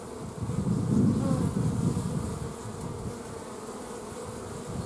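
Honey bees buzz in a loud, steady, dense drone at an opened hive of about twelve frames, the swarm hum holding close and continuous throughout with no talking.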